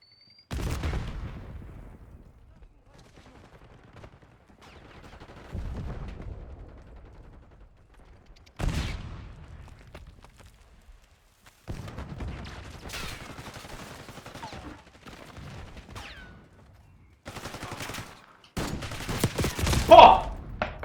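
Gunfire in the shooter game Black Ops 6, scattered sharp shots and short bursts with booming blasts between quiet gaps, getting denser toward the end, with occasional voices.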